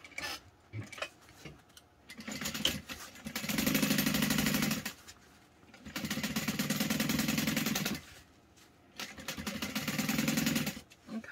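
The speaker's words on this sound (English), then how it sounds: "And then we're going to top stitch through" A sewing machine topstitches through fabric layers on a garment project, running in three sustained bursts of steady rapid whirring and needle chatter separated by short pauses, with faint handling clicks before the first run.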